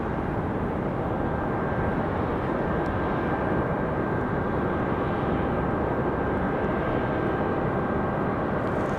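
A Republic Airways Embraer E175 arriving from Philadelphia produces a steady, dense jet roar that holds at an even loudness throughout.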